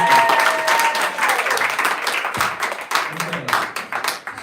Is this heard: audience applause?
yes